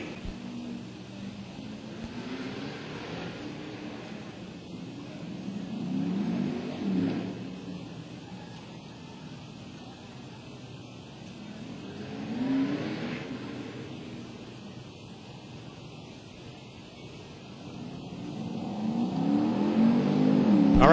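A drag race car makes a solo bye run in the Nitto Tire 5th Gen Shootout at Atlanta Dragway, a distant engine rumble swelling and fading in waves, then building loud again toward the end.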